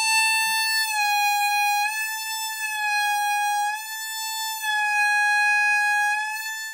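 A single sustained blues harmonica note bent on the sixth channel, a clear reedy tone that wavers slightly in pitch, played alone and held for several seconds.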